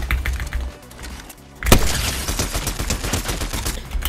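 Rapid video game gunfire during a ranked solo match breaks out suddenly after a quieter stretch, then continues as a dense, loud burst of overlapping shots with a busy game soundscape behind it.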